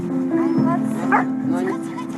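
Sled dogs at a mushing race yip and bark excitedly in quick, overlapping bursts, fairly close and loud over a steady background hum, with voices talking alongside.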